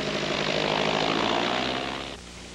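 Propeller aircraft flying over Yellowknife in Canada's Northwest Territories, a loud, steady broadband engine drone that holds for about two seconds and then drops off abruptly to a quieter rumble.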